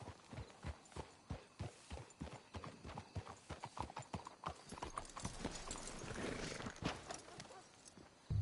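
Horses walking in Red Dead Redemption II, with a steady, close clip-clop of hooves in an even rhythm, joined later by rustling movement and faint background voices.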